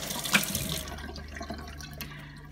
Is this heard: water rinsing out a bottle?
yes